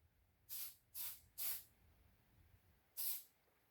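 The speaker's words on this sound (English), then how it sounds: "You'll hear the spray can going off." Four sharp hissing bursts of an aerosol can spraying primer, three in quick succession then one after a pause, close and loud over faint background hum.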